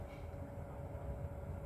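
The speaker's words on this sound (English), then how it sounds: "That's the sound the car makes?" An Audi e-tron electric SUV drives on an off-road trail, giving a steady droning hum with a sustained mid-pitched tone over rumbling low road noise, close and continuous.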